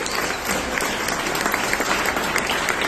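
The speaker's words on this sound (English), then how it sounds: "Let's give them a round of applause." A crowd at a political event applauds steadily for two state representatives, dense clapping spread evenly throughout, loud and close without any voices.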